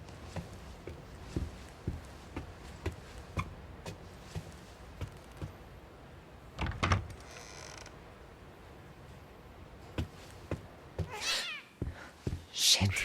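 A cat meows in The Medium video game amid creaks and footstep-like knocks, with a short cry near the middle and more cries toward the end, while a person speaks at times.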